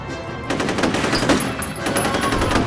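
Rapid assault rifle gunfire in the shooter game F.E.A.R., a sustained loud automatic burst of closely spaced shots rattling on for nearly three seconds with no talk over it.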